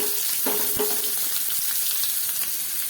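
Mustard seeds, urad dal and chopped onion fry in hot oil, giving a continuous dense sizzle up close, with a couple of soft clinks and stirring knocks early on and no speech.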